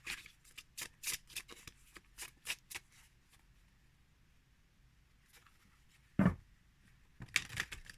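Trionfi della Luna tarot cards, Illustrated Pips Edition, riffle-shuffled in a rapid series of crisp bursts, then a pause, a single louder snap and another quick flurry of shuffling, close up and quiet.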